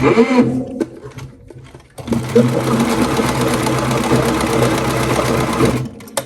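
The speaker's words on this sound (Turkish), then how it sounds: "Şimdi buraya bir düz bir dikiş atıyoruz." A sewing machine stitches a straight seam on bag lining, starting with a few short bursts and clicks, then running in a loud, steady rapid whir for several seconds before stopping.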